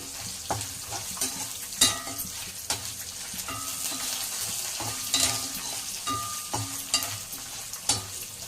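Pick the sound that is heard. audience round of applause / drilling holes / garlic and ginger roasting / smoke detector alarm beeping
garlic and ginger roasting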